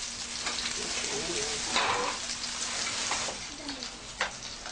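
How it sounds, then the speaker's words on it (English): Korean pancakes frying in oil while food is prepared for Chuseok rites, giving a steady, moderately loud crackling sizzle with scattered sharper pops and faint background sounds. "The whole village starts to smell of frying Korean pancakes."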